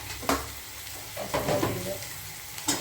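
Turmeric, garam masala and other ground spices being stirred as they fry in a hot pan, with a steady soft sizzle and a few louder scraping strokes of the spoon, close and without talk.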